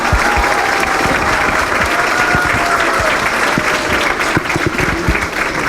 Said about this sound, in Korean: 박수로 서로 반갑다는 인사 나눌까요?